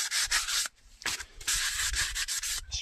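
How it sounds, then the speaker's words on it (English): Sandpaper of 240 or 120 grit rubbing back and forth on a surface while preparing a Bushmaster model for a camouflage paint job, producing close, steady hissing strokes with a brief pause midway. "and then I take some sandpaper. This is 240 grit or 120,"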